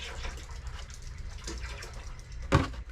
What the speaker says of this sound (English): So if you want to pour the milk into the pan. Big pot.